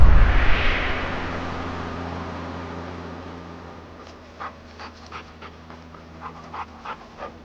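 Dogs panting close by in a rhythmic run of short breathy puffs, faint at first under a fading rumble, then clearer and steady toward the end with no talk.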